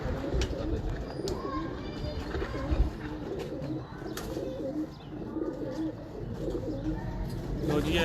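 Fancy quail-type pigeons cooing at a fancier's loft in Sialkot, soft repeated coos over a busy background of chirps and distant voices, with people talking nearby.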